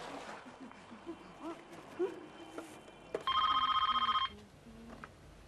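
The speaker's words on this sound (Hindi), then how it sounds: "प्रेमा जी को फोन किसने?" A telephone rings in a single electronic trill burst lasting about a second, clear and fairly close, with scattered background voices and room noise before it.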